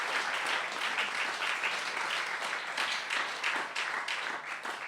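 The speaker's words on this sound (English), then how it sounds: "Can we give Rebecca a great big clap?" Audience applause at a concert in the Barn Theatre: many hands clapping in a steady, dense stream at moderate volume, sustained for several seconds without voices over it.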